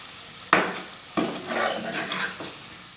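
A spoon stirs fresh coriander and green chilli through a pot of shaljam gosht, a turnip and meat curry, with the heat just switched off: two sharp scrapes against the pot, then softer stirring and a faint simmer, close and without talk.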